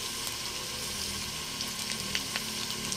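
Ginger, garlic and onion sauté in oil in a pan, a soft, even sizzling hiss with a few faint crackles and no talking.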